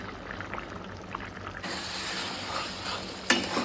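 Fish roe curry with a little sugar and butter being stirred and cooked down in a pan: soft scraping and faint sizzle, growing brighter and busier partway through, with a sharp clink near the end.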